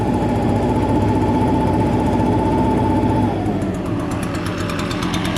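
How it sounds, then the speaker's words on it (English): A small two-stroke Echo leaf blower engine idles steadily and loudly up close right after being started following a year in storage, a continuous buzzing drone that eases slightly lower and rougher near the end. "I recommend just let it idle like this for a couple minutes before you start really using it on high"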